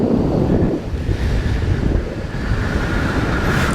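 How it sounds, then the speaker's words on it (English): Steady wind buffets the microphone at an old airfield just after a paramotor lands with its engine off, a loud continuous rumble rising and falling over a few seconds, with no talking. "the wind is picking up a little bit"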